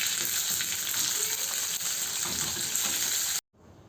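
Chopped small onions frying and being stirred in a pan for a curry, giving a loud, steady close sizzle with faint scraping that stops abruptly near the end.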